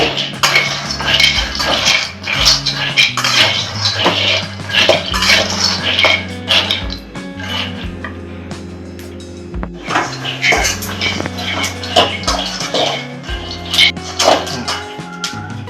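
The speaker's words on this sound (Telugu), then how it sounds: "ఇవన్నీ బాగా వేయించుకోవాలి మొత్తము" Peanuts and lentils dry roasting in a pan, stirred with a metal utensil that rattles and scrapes loudly and continuously against the pan, with background music underneath.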